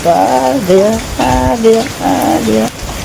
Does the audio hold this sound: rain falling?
yes